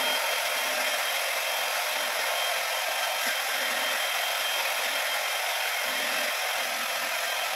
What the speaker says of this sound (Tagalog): So ngayon ay i-blower natin para matuyo siya.